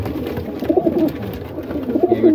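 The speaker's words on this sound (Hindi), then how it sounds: "ये नीला कबूतर है लाल आँख में, वो ज़्यादातर कबूतर है।" Pigeons, including a blue pigeon and Teddy cross birds, coo close by in soft repeated throaty bursts, two clear rounds of cooing over a low background with no talking.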